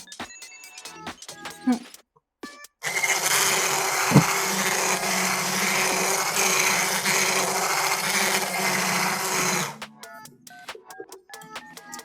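Cinnamon roll cake batter whisked in a bowl while baking in an RV, a loud, steady scraping whir lasting about seven seconds, bracketed by quieter clinks and handling noise before and after.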